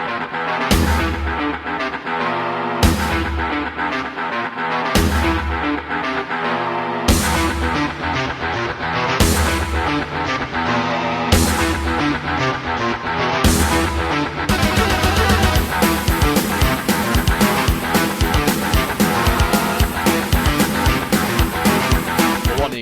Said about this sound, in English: The Doom soundtrack that I know sounds like this.